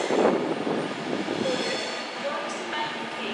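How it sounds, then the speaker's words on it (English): A Class 390 Pendolino, an 11-coach train bound for Glasgow Central, at London Euston station: a steady low rumble with station ambience and faint announcements that fades slightly toward the end. "Got an 11 coach Pendolino off to Glasgow Central via Birmingham New Street."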